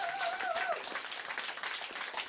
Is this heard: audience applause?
yes